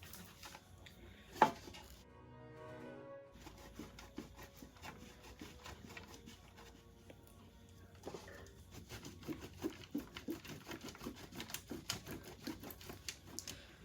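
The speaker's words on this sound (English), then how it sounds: "I'm through grating my cheeses" Parmesan and mozzarella cheese grated by hand, heard as quiet, rapid, rhythmic rasping strokes against a grater that run through most of the passage, with a brief thump near the start.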